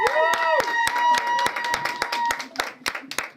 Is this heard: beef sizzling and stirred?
no